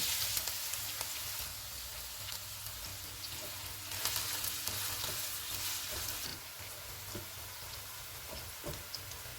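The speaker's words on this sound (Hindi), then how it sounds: "ऑयल गर्म हो गया, इसमें 2 प्याज डालेंगे। इनको गोल्डन ब्राउन फ्राई करेंगे।" Two onions fry in about three-quarters of a cup of hot oil, a steady broadband sizzle with crackles and occasional stirring scrapes throughout, close and continuous with no talking.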